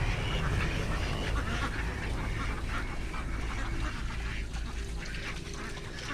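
Duck layers at a small farm quack repeatedly in a dense, overlapping chorus nearby, with a steady background hum and no clear talk.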